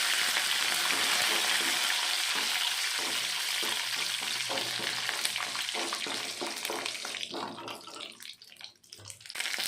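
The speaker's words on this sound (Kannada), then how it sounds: "ಕರಿಬೇವಿನ ಸೊಪ್ಪು ಹಾಕ್ಕೊಂಡು ಫ್ರೈ ಮಾಡ್ಕೊಬೇಕು." Byadgi chillies and curry leaves frying in hot oil, giving a continuous hiss and crackle close by, steady at first and then thinning and growing patchy toward the end.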